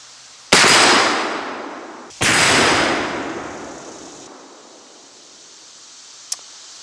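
Two sharp, loud gunshots from a Numrich Hopkins & Allen underhammer rifle with a 22-inch barrel, each ringing out and decaying over about two seconds outdoors, followed later by a faint distant crack.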